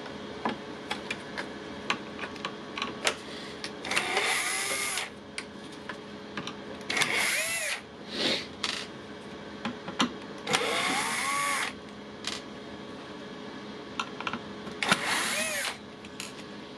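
A power screwdriver backs screws out of the circuit board of a non-working Makita radio under repair, in four separate whirring bursts of a few seconds each, close and fairly loud, with quiet ticking handling sounds between them.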